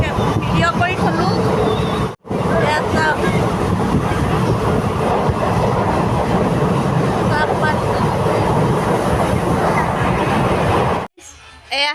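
Interior of a moving train travelling in stormy wind, a loud continuous rumble and rattle of the carriage with voices talking throughout, briefly dropping out twice.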